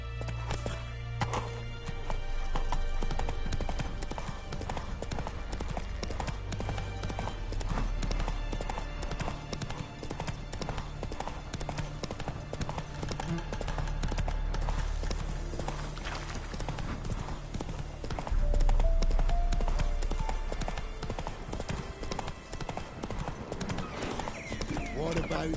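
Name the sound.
horse Roach galloping in video game The Witcher 3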